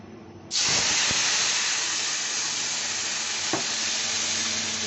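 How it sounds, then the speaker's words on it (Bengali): A spice paste mixed with water hits hot oil with a sudden loud burst of hissing sizzle that stays strong and steady, broken by a couple of brief utensil knocks. "জল দিয়ে গুলে আমি এটা তেলে দিয়ে দেবো"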